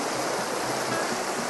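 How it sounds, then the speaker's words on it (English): Fast-flowing stream water in a trout-fishing spot, a steady full rushing wash that fills the whole clip, loud and close with no voices over it. "Fast water. You know they're in there."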